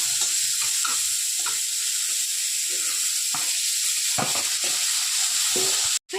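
Steady loud sizzling of onions and tomato frying in a pan, with occasional scraping stirs and clicks, no talking.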